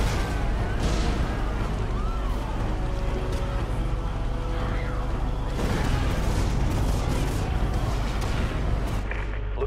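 Gunfire in Prototype, loud rapid shots and heavy booms over a constant low rumble, with bursts throughout and a heavier flurry midway.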